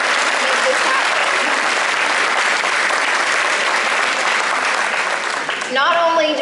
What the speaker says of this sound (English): give everyone a round of applause for helping me make this happen